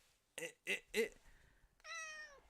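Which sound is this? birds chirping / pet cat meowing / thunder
pet cat meowing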